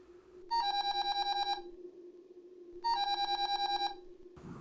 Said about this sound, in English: Terrence pulls out his phone and he calls Mr. Funnyman.